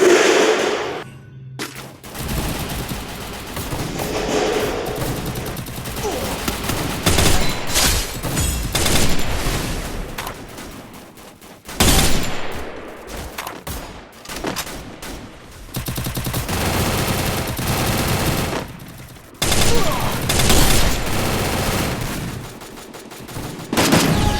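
FAMAS automatic rifle fire rings out in the battle royale game Free Fire. Loud rapid bursts repeat in long runs, separated by brief pauses, with no audible talking.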